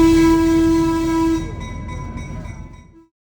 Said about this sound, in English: We did get to do a train ride.